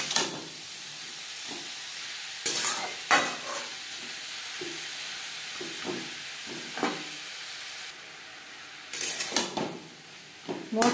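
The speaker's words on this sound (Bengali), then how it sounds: "বিট গাজরের সাথে মশলা, লবণ, হলুদ বেশ ভালো করে মিক্স করে দেবো।" Beetroot and carrot being stirred with salt, turmeric and spices in a pan, with intermittent scraping strokes and soft sizzling at moderate volume, no talking.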